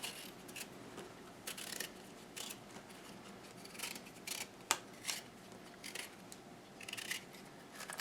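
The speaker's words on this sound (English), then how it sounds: "we're going to want to take a peeler and just come in and peel them real quick" Vegetable peeler scraping over carrot, parsnip and sweet potato, a series of short, close rasping strokes in an irregular rhythm over a quiet background.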